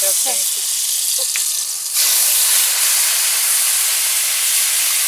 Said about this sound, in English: so the oil is hot